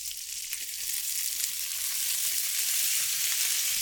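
Swedish meatballs frying in a pan give off a steady, moderately loud sizzle, with faint spatula scrapes as they are turned and no voices.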